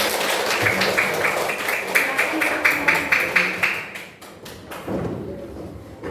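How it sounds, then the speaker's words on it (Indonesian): Children in a classroom clap together after a teacher's rhythmic clapping game, a dense, near burst of hand claps with regular pulses that thins out toward the end. "tepuk tangan untuk kalian semua."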